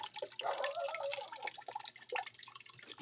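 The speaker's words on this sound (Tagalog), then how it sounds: "Pupuyatin lagi ang tao sa pagbabantay ng tulo ng gripo." Water from a tap drips and trickles at night into a container, producing rapid irregular splashy drops that are fairly close and moderately loud, with no talking.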